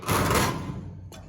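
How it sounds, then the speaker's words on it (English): A small access door on the hood of a Peterbilt 359 truck swings open with a brief rustling scrape and a soft knock at the end, close by, with no talk. "There's a little access door"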